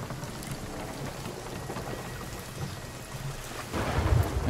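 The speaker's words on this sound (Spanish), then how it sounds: "¿Qué ha pasado con el rayo? Ha caído detrás tuyo." Thunder from a lightning strike rumbles during a storm at sea in the video game Sea of Thieves, a low rolling boom that swells near the end over a steady hiss of rain.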